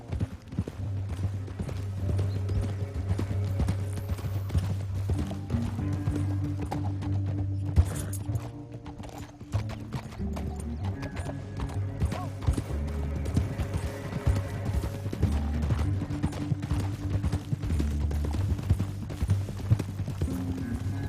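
Rapid hoofbeats of galloping horses in the video game Red Dead Redemption 2 run continuously over a low, droning musical score, with a brief dip in the middle before the pounding resumes.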